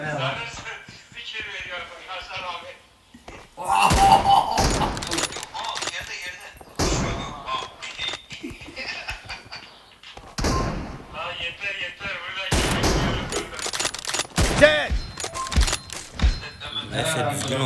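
Gunfire in the PUBG Mobile video game, bursts of sharp thumping shots and impacts at irregular intervals, loud and close, mixed with someone talking excitedly.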